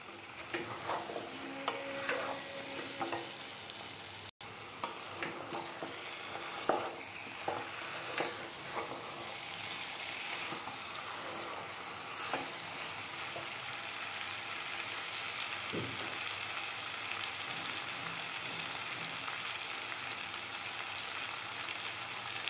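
Curry leaves sizzle and fry in a pan as a spoon stirs them, with scattered scraping clicks early on over a steady close crackle while tamarind gravy is being made, and no voices.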